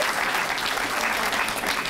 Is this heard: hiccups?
no